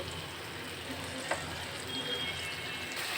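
Eggs going into a boiling, bubbling curry for egg sohagi: a faint, steady sizzle and simmer with a small splash, soft and continuous throughout.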